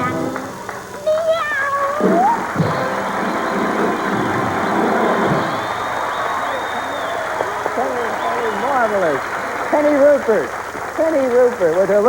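On a television talent show stage, a performer imitates an alley cat, letting out a series of rising and falling vocal meows, loud and close over crowd noise and background hum.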